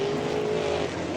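Super late model race cars roar on a dirt track at Butler Battlegrounds in Quincy, Michigan, a steady loud engine drone that holds without a break through a short stretch of racing.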